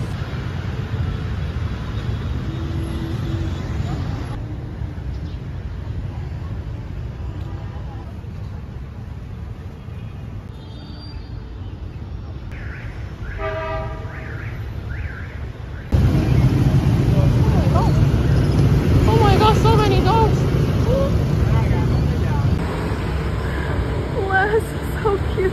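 Constant motorbike traffic on a Saigon street, a dense low rumble of engines with passing horns and louder stretches as bikes go by, and people talking over it.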